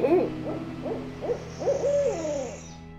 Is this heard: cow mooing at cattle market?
no